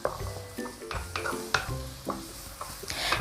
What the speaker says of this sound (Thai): ผัดให้หมูเกือบสุกเลยนะคะ ผัดไปผัดมาค่ะ